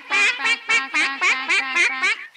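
Cartoon ducks quack in a rapid, loud series of about eight nasal calls, close and evenly spaced, with no talking over them.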